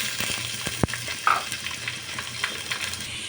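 Chhana cheese curds tipped into a hot pan of oil for pulao, a steady bright sizzle and crackle with a sharp clink of a utensil against the pan near the start, no voices.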